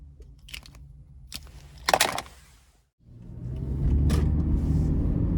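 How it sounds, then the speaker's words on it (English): A 2011 Toyota Prius in eco mode at the start of a test drive: a few clicks and a brief mechanical whir inside the cabin, a moment of quiet, then a low steady rumble of the car pulling away and gaining speed. "So starting the test drive in this Prius here, even in eco mode, the pickup is relatively decent."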